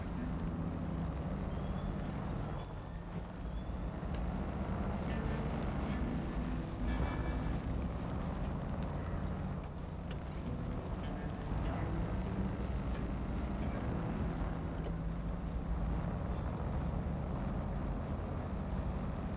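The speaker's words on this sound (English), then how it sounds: "Quite like the sound that this Hummer makes" A Hummer H2 with an 80-litre fuel tank driving off-road in the SnowRunner video game, its engine a steady low rumble that holds fairly quiet and even throughout, with slight swells in effort and no talk over it.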